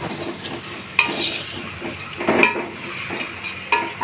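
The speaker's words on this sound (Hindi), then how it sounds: "ना तड़का अच्छा हुआ बगारना अच्छा हुआ" Spices crackle and sizzle in hot oil as a tadka is tempered before meat is added, with bursts of spattering and occasional stirring clinks against the pan.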